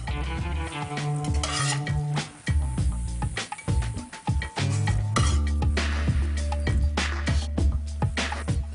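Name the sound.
fish cakes frying in a pan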